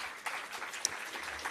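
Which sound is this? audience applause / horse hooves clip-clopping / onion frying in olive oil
audience applause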